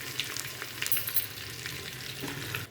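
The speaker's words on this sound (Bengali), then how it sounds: "মশলাটা পুরোপুরি ভাজা হয়ে গেছে, এরপর দিয়ে দেবো মাংস" Frying in a pan with a paste of ginger, garlic and onion plus coriander and cumin powder: a steady, fairly quiet sizzle and crackle with occasional stirring scrapes, with no talk.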